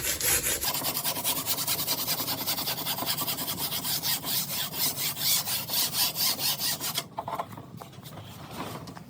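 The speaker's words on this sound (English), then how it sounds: "Sanding, we'll get this back edge where the transom is going to mount." Sanding the back edge of a small wooden punt-style boat where the transom will mount: close, rhythmic back-and-forth rasping strokes, steady and loud, stopping near the end.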